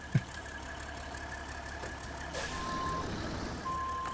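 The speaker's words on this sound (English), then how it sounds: "I'm trying to drive a truck here" A truck engine idles low and steady in a driving video game while reversing beeps sound in a regular rhythm, with a brief thump near the start and a rising engine surge partway through, no talking.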